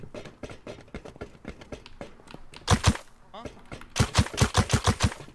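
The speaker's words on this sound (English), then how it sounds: "Greek, what are you shooting at?" Rapid bursts of video game gunfire during a multiplayer police station raid, a steady stream of shots then louder clustered volleys near the end, with players talking over it.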